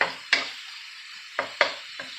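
Sausage broken up and stirred in a frying pan for a keto inside-out sausage egg roll, with several short scraping utensil strokes against the pan over a faint sizzle, close and fairly quiet.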